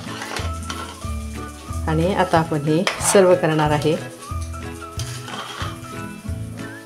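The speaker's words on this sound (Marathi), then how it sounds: "आता ही एकसारखी अशी हलवून घेऊया" Cooked jaggery lapsi, a broken wheat porridge, is stirred in a pressure cooker, giving soft scraping and clinking of a spoon against the metal pot under background music, while someone talks over it.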